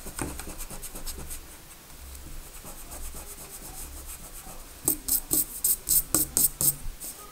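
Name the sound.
pencil drawing being erased with an eraser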